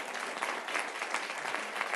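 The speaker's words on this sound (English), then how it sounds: "So a round of applause for her as well." An audience claps for a state senator at a legislators' press event announcing bills to expand universal background checks. The applause is steady and moderately distant and fills the whole stretch without any talk.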